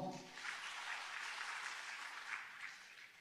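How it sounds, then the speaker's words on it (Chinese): Sustained audience applause fills a hall at the 2023 first Liaoning traditional Chinese medicine summit forum, a steady dense clapping that holds evenly for about three seconds. "让我们再次以热烈的掌声感谢张教授的精彩报告"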